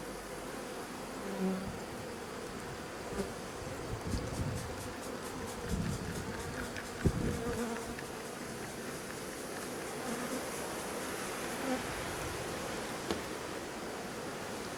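Honeybees buzz steadily around hive frames without brood while a beekeeper sprays them outdoors in the wind, a soft continuous drone with faint rustles and light handling knocks.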